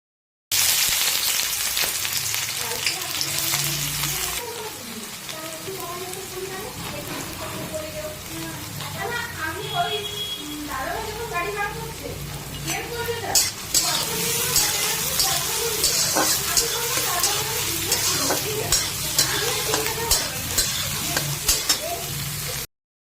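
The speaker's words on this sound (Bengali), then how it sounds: "যেই সরষের তেলটা গরম হয়ে যাবে প্রথমে ভেজে নেব পেঁয়াজ আর লঙ্কা।" Chopped onions and green chillies fry in hot mustard oil with a steady, rain-like sizzle that runs the whole time. A voice speaks over part of it.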